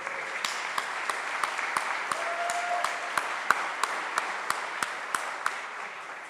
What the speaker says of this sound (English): one more time clapping